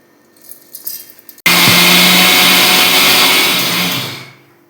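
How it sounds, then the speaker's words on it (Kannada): A mixer grinder grinding rice, coconut and salt starts abruptly after some quiet handling noises, then roars loudly and steadily for a few seconds before winding down. "ನಿಮ್ಮ ಇಡ್ಲಿ ರವೆ ಥರ ಗ್ರೈಂಡ್ ಮಾಡಿ ತರಬೇಕು."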